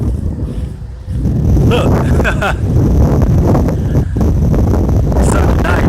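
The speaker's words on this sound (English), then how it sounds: "Look, the wind is following me." Strong outdoor wind buffets the microphone near a tree at night, a steady roaring rush that persists while someone speaks briefly over it.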